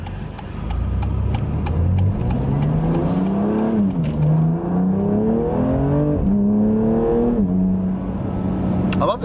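A BMW M2 Competition engine revs hard and climbs through several gears of its dual-clutch transmission, each rising whine cut by a shift, loud and close.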